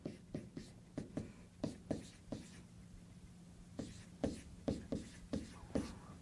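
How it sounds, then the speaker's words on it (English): Someone writes out a supply calculation by hand, the pen scratching in short repeated strokes, close and fairly quiet, with a brief pause in the middle before the strokes resume. "let me just write down what we would do for supply."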